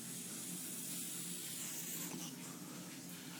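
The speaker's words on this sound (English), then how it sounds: "I've been vaping it upside down. I don't get any gurgling." Steady, soft airy hiss of a CE2 e-cigarette with a Vortex 2 mouthpiece being drawn on continuously, held upside down, without gurgling, close and faint throughout.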